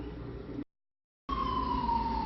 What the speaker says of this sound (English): Here's siren.